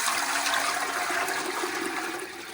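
A gallon of water gushes into a large cooking pot for chicken and vegetable soup, a loud, steady pouring rush that eases slightly at the end.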